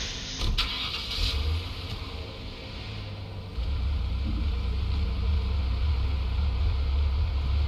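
A Ford Crown Victoria police car in the Police Simulator game starts up with a brief whirr and catch, then settles into a steady, close, low engine idle.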